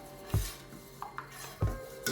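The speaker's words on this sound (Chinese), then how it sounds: "搅拌一下。" Yogurt stirred into cream in a bowl, with a few distinct clinks of a spoon against the dish and soft scraping between them, quiet and close with no talking.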